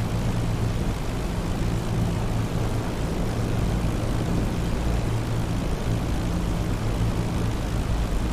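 Propeller aircraft engines from a World War II Luftwaffe air battle in the DCS flight simulator game drone steadily and loudly throughout, a continuous broad roar with no talk.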